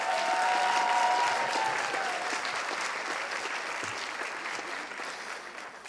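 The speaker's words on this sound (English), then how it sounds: "One more round of applause for our Student Engagement Award winners." Audience applause at a university student affairs awards ceremony, a full, close burst of clapping that slowly tapers while staying steady, with a faint tone ringing briefly at the start.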